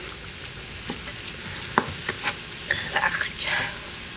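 Vegetables and plantain slices frying in a pan, a steady soft sizzle broken by scattered light scrapes and clicks of stirring, close and moderately quiet with no talk.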